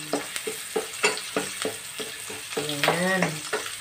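Garlic frying in a pan for a simple home dish: steady sizzle with rhythmic scraping stir strokes roughly twice a second, close and clear, ending in a brief squeak-like utensil scrape.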